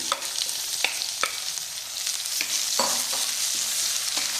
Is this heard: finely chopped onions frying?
yes